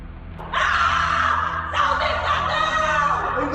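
A woman lets out a chilling, drawn-out scream in two strained bursts as holy water is thrown at her before she collapses to the floor, loud and alone with no talk.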